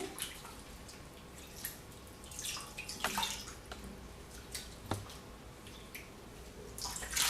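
Hair extension wefts are rinsed under running water in a basin or tub, with soft continuous splashing and scattered drips and sloshes at irregular moments, close and moderately quiet, no speech.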